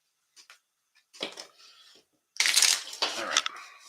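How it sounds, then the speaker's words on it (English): A small 20-card deck of playing cards being shuffled by hand, giving a few soft riffles and flutters, close by, with light clicks and pauses between bursts. "You're going to shuffle that deck."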